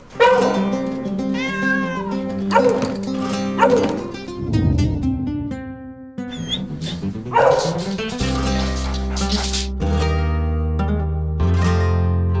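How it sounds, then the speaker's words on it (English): A pet dog yips and whimpers in a busy mix, with cat-like meows, near and fairly loud, while a robot vacuum's electronic tones and music play alongside. "This is my dog, Toby."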